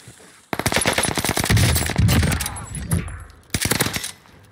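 A Vargo S rifle in a Call of Duty match fires loud, rapid automatic bursts, one sustained run and then a shorter final burst, with brief gaps in between.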